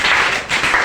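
A classroom applauding a student, a short close burst of clapping that swells, dips briefly, then resumes.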